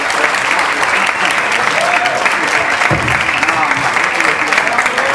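Loud, dense applause fills the room from a live concert audience at The Cavern in Buenos Aires, steady clapping throughout with a few faint voices mixed in.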